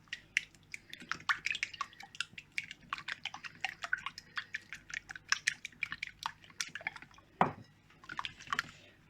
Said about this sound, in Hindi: पहले इसमें एग डालेंगे और इसको अच्छे से पहले इसके साथ बीट कर लूँगी।